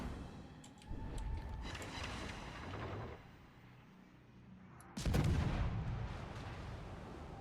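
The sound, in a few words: battleship naval gunfire shots in a video game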